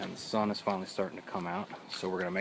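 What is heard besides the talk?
No everyday noise stands out behind the speech.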